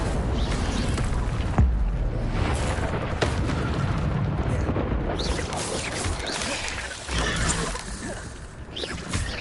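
An Incendio fire spell being cast in a Hogwarts video game, a dense, roaring burst of flame and rumbling booms that continues loudly across the whole stretch, layered with other combat noise.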